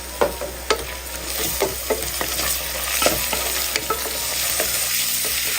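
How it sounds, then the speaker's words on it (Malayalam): Ginger, garlic and chopped coriander fry in a pan with a steady sizzle while a spoon scrapes and stirs through them, giving repeated light clicks close by. "ഒരു 10 സെക്കൻഡ് ഒന്ന് ഇളക്കി കൊടുക്കാം"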